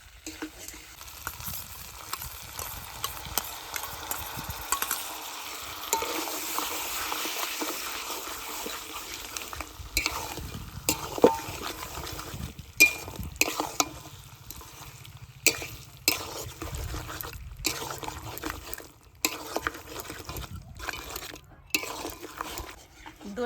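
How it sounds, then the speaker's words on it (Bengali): Mutton being stirred with yogurt in a cooking pot, a soft scraping and low sizzle running through with scattered utensil knocks and brief clatters. "এবার দইটা দিয়ে একটু নাড়ি চাড়িয়ে জল দিয়ে দেবো"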